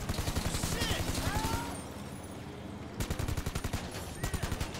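Rapid automatic fire from a new military rifle in Grand Theft Auto V, fast regular bursts of shots, a brief pause, then another sustained burst, loud and close, with a player talking over it.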